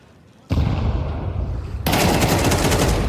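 Dense, continuous gunfire in a video game firefight during an esports match between FaZe and Alliance: a loud burst starts abruptly and then swells into even heavier sustained shooting, with no talking.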